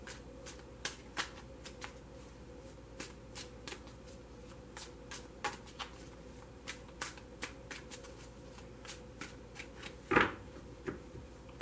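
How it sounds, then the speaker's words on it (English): Rapid, crisp riffling of a tarot card deck, repeated in short bursts over steady background hiss, with one louder flurry near the end. "I have pre-shuffled this deck, so I'm only going to shuffle it for a moment."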